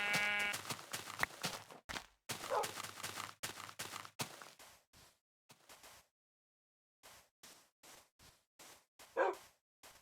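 A dog in Minecraft barks in a string of sharp, separate yips with short gaps between them, and a few bleat-like game sounds are mixed in. A longer pause falls midway, and the barking then returns.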